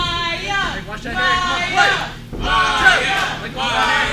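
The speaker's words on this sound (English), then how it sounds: "The crowd trying to chant Maya's name, trying to get her back into the action" A wrestling crowd at a women's title tournament event chants a wrestler's name in loud, rising waves of voices, with a commentator talking over the chant.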